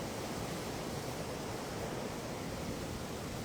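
Storm surge water from Hurricane Helene rushes across Fort Myers Beach, Florida, a steady broadband roar of churning surf and wind, constant and close with no pauses.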